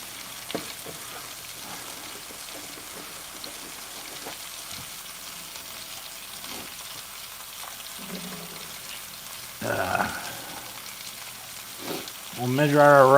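Sausages and onions fry in a pot with a soft, steady sizzle and crackle, joined by a few clinks and a brief stirring scrape near the end.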